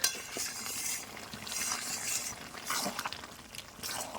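Chicken curry cooks down in a pan with a soft, continuous sizzle, and a utensil repeatedly scrapes and clinks against the pot as it is stirred and pressed.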